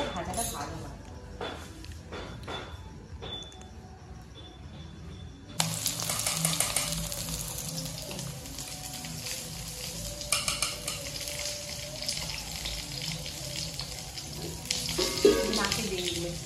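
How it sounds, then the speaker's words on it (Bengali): Sliced eggplant coated in turmeric and salt frying in a pan, starting with a sudden loud sizzle partway through that keeps crackling steadily to the end, with stirring scrapes and a voice talking over it. "বেগুনটা এভাবে কেটে দিতে হয়, তাহলে হলুদ আর লবণটা দিয়ে ভাজাটা ভালো হয়"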